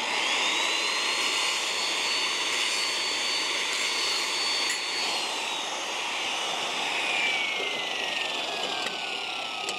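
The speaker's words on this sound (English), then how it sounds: "I'm just going to grind the paint off the two sides that I'm going to weld" An angle grinder strips paint off a steel trailer tongue to prepare it for welding. A loud, steady grinding roar with a high whine spins up, holds, then winds down across the whole stretch.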